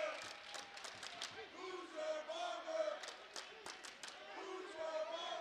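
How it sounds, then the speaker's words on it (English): Student crowd at a college basketball game between Idaho and Sacramento State chants a taunt at a free-throw shooter in a steady rhythmic cadence, loud and echoing through the arena, with scattered shouts and claps mixed in. "The crowd chanting, "Who's your barber?""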